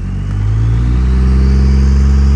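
Second-generation truck engine revving hard while pulling a trailer uphill, a loud, close, steady low drone that swells in the first half-second and then holds level, with no talk.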